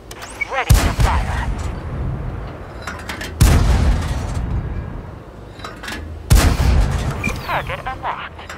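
Tank main gun in an armored-combat video game fires three times, each a loud booming blast with a rumbling tail, spaced a few seconds apart over engine noise and in-game radio voice lines.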